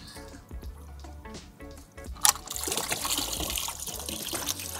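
A dirty aquarium pre-filter is rinsed in a bucket of tank water, with soft trickles and squishes swelling into a steady close wash of splashing and sloshing after a sharp splash midway.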